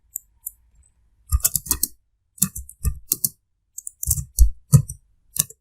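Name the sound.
typing text on computer keyboard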